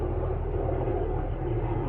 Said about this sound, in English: rather than wait till the helicopter passes